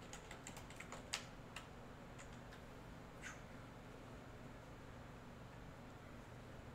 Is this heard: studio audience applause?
no